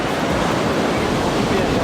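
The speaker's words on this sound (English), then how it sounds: "it's ridiculously wavy, like the sea is like a tropical storm" Loud, constant roar of surf on a pebbly beach in Normandy, France, with strong wind buffeting the microphone, a dense wash of noise with no pauses.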